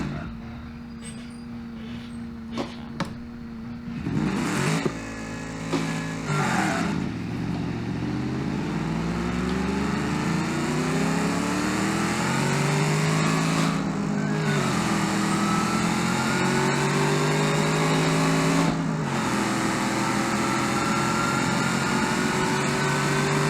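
A Gavril Barstow runs a quarter-mile drag race in the BeamNG game, its engine roaring loud and steady with rising harmonic sweeps as it pulls through the gears, a brief shift break near the middle, alone without talk.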